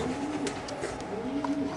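Racer pigeons coo steadily at close range amid a dense, noisy backdrop, their low murmuring calls continuous through the short stretch.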